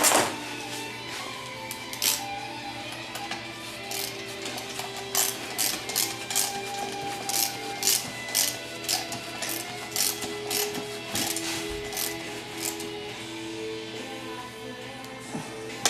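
A ratchet wrench with a 3/8 12-point socket tightens the center support bolt during a TH400 automatic transmission rebuild, producing a continuous close series of rapid clicking ratchet strokes without talk.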